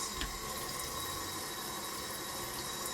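Water runs steadily from a hose-style kitchen faucet in a small Seoul apartment, a continuous close hiss and splash with no breaks and no voices.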